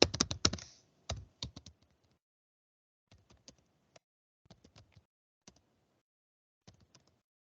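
Keys clack on a computer keyboard as a command is typed, a quick burst of close clicks at first, then sparse, faint single taps with pauses in a quiet room.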